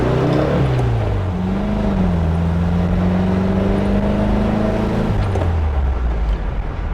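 A 1973 VW Thing, a Beetle-based car, drives along a road with a steady low engine drone heard from close by. Its pitch rises and then drops as it shifts gears, under a constant road hiss.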